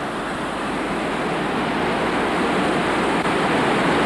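A dense, powerful roar of a flooding river's rushing water fills the whole clip, steady and loud with no breaks, from the 1992 Vaison-la-Romaine flood.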